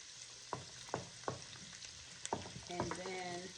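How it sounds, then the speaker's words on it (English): Onions, celery, peppers and carrots frying in a soup pot give a steady sizzle, while a utensil stirs through them with several distinct scraping strokes spaced across the few seconds. "We're going to mix this until the vegetables are soft"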